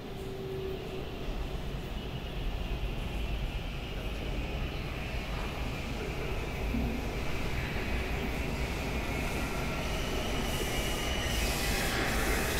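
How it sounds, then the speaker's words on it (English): A Washington DC Metro Red Line train rumbles loudly into a station, a steady heavy roar of wheels on rails with a high squeal building near the end. "These lights that are flashing tell that a train is coming."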